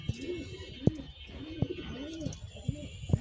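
Racing pigeons at a tournament loft coo in repeated rhythmic rolling phrases, fairly close, over a faint background hum with no speech.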